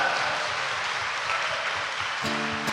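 A church congregation applauds during Sunday evening Mass, a steady wash of clapping that continues evenly, with a sustained tone entering near the end.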